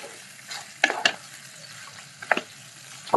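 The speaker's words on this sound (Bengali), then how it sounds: "আরেকবার নাড়িয়ে," Chicken makhmali being stirred in a pan, with a few short scraping strokes of a utensil over a soft, quiet sizzle, the stirs coming in small clusters with pauses between them.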